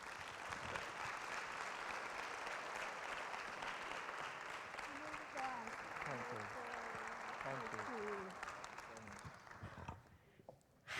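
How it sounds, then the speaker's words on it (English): Audience applause at a youth forum held at UNESCO, a sustained, fairly distant wash of clapping with a voice speaking over it midway, then tapering off near the end. "So another round of applause for all of our fellow citizens"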